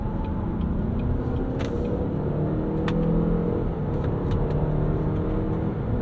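Cadillac XT4 with a 2-liter turbo engine pulling under acceleration, a steady droning engine note with road rumble heard from inside the cabin and no talk.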